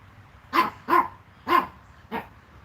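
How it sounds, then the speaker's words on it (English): A dog named Freckles barks four times in quick succession, fairly close and loud, with short gaps and the last bark softer, and no talking over it. "Why are you barking, Freckles?"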